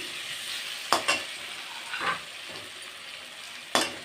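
Potatoes frying in a pan with a constant close sizzle, broken by a few quick scraping strokes of a spatula as they are stirred, and no talk.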